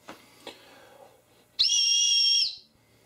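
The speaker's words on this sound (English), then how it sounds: "Not the best whistle I've ever heard, but it's definitely a whistle, and definitely will get the job done." A Micro Jet Scream survival whistle gives one loud, shrill, steady blast lasting about a second, then cuts off. A couple of faint knocks come just before it in an otherwise quiet room.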